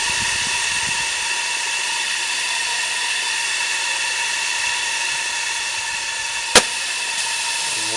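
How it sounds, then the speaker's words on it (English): The safety valve on a coal-fired vertical boiler blows off steam at 90 psi with a loud, steady, close hiss and a strong whistling tone, broken by one sharp click partway through. "As you see, it's the valve blowing at 90."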